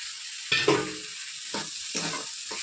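Onion, ginger, garlic and tomato sizzle in a pan as eggplant pieces are added. A sharp hiss bursts up first, followed by a few shorter stirring sizzles against a steady background hiss.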